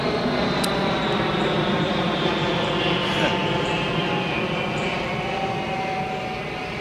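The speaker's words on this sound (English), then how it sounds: "Those jet planes always circle over this yard, or at least neighborhood, but usually over this yard, to make their turn to go to the western runway" A jet plane circling low overhead on its turn toward the western runway of New Orleans airport, a steady loud roaring drone over a suburban yard, slowly fading at the end.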